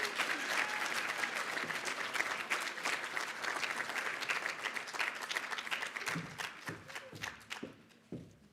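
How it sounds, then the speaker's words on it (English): An audience at a student leadership awards banquet claps steadily in a room, the applause thinning out near the end into a few scattered, separate claps. "Please give Lynn a round of applause."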